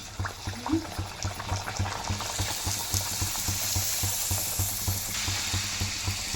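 Poori frying in a pan of hot oil, a continuous bubbling sizzle with soft crackles, close and steady with no voices over it.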